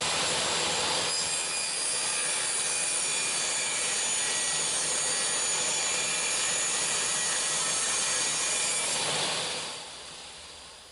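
A power saw cuts wooden wall parts for a handmade toy knight's castle, a loud sustained whining buzz lasting nearly the whole stretch before winding down at the end.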